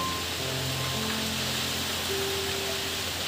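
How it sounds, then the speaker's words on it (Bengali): A post-cyclone rainstorm pours outside a house, an even, hissing roar of rain holding steady throughout, with faint low tones drifting beneath it. "বৃষ্টি আবার বাড়তেও শুরু করেছে"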